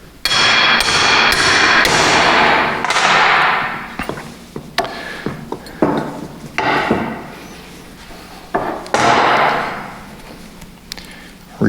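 Hammer blows on a front axle shaft joint during installation of Revolution Gear & Axle front axle shafts, a quick loud series of metallic strikes followed by scattered lighter taps and clunks, close up, no talking.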